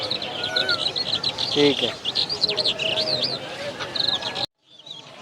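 Caged birds at a bird market, including canaries, chirp and whistle in rapid, overlapping calls close by while someone talks briefly, before the sound cuts out near the end.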